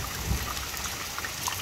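Heavy rain pours down on a house yard, a dense, steady hiss of falling water with a faint thud near the start and no voices.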